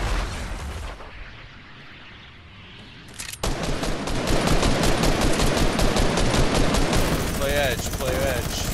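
Rapid automatic gunfire in a shooter video game, dense and loud and running almost continuously after a brief lull, with players talking over it.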